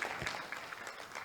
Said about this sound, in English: A round of applause again to him.